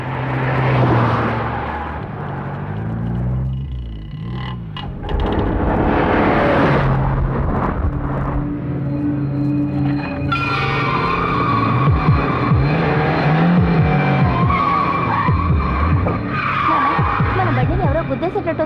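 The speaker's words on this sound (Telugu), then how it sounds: "మన బండిని ఎవరో గుద్దేసేటట్టు వస్తున్నాడానా?" A car speeds toward another vehicle with tyre skidding and squealing on a Telugu road scene, heard under music and people talking, loud and continuous.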